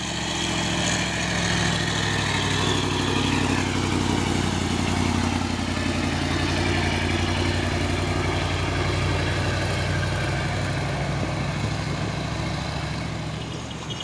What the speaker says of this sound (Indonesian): Lagi dump truk pasir